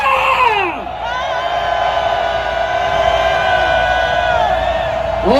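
A large crowd of thousands roars with cheering and shouting at an outdoor religious prayer rally and national assembly in Korea, a loud, sustained mass shout with whoops rising over it that swells again at the end.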